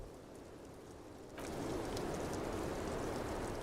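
Rain falling in the video game Disco Elysium, a soft steady patter that swells abruptly into heavier, denser rainfall with faint droplet ticks, no talking.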